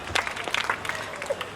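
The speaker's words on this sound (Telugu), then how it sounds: "మొత్తానికి గట్టిగా చప్పట్లు కొడుతూ మనము కృతజ్ఞతలు తెలియజేసుకుందాం" Audience clapping at a golden jubilee celebration, a short burst of fairly loud, dense applause from a crowd with no speech over it.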